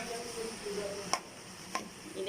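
Dal mash lentils roast in a pan with a soft, low sizzle, and two sharp utensil taps against the pan stand out in the quiet background.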